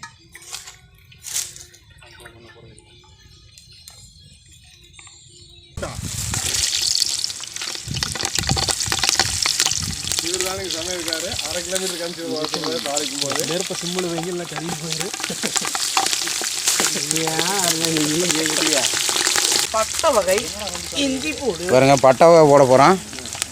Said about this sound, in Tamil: கிரேவிக்கு சட்டி வைக்க போகிறோங்க பார்த்துக்குங்க சட்டி காஞ்சிருச்சுங்க எண்ணெய் ஊற்றிக்கலாம்